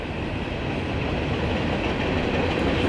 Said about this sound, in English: Trying to wait for this train to go past so y'all can hear me